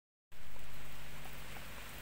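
Light drizzle falling outdoors near a tree, a steady hiss of rain that comes in abruptly and then holds at a constant level, filling the whole short stretch with no voices.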